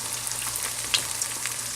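Sunny-side-up eggs fry in hot fat in a pan just taken off the heat, with a steady, close crackling sizzle and occasional small pops.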